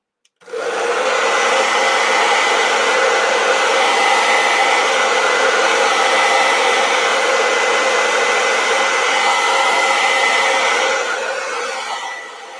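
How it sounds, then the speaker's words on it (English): A hair dryer on its cool setting switches on and blows steadily at close range for about twelve seconds, a constant whirring roar that winds down at the end. "I'm going to dry it with my hair dryer on cool"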